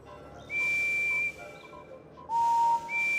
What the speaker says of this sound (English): Which of these whistles is like Percy's?